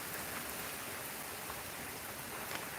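Steady rain falls on a farm in Nani Rafudal, Gujarat, a dense continuous hiss of drops without any break, moderately loud and even throughout.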